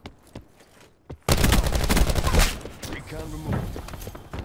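Rapid Vapr-XKG assault rifle fire in a Black Ops 4 free-for-all match, a loud sustained burst of close gunshots after a couple of quieter isolated shots.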